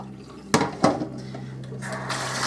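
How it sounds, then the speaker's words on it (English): Hot water from a pot of boiled eggs poured off at the stove, opening with a couple of sharp clanks of the pot before a rushing splash of draining water, close by with no voices. "My eggs have sat on the back of the stove for about 10 minutes. And those, I am just going to drain them over here."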